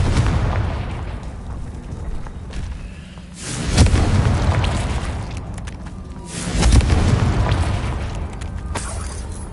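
Repeated spell blasts in the Hogwarts Legacy video game: loud booming explosions with broad rumbling bursts at intervals over a continuous noisy game backdrop.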